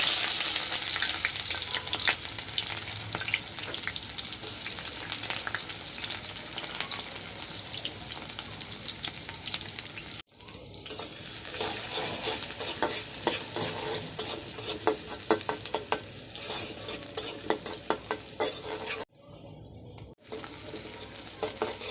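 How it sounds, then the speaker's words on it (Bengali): Onions sizzle loudly in hot oil in a wok, with stirring scrapes and two short pauses where the frying drops out. "এখন কড়াইতে পেঁয়াজটা দিয়ে দেবো"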